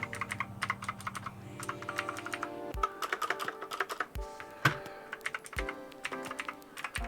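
Typing on a Havit KB389L budget 104-key keyboard with blue mechanical switches: bursts of sharp, clicky keystrokes in uneven rhythm, close up and fairly quiet, with a few heavier thuds among them.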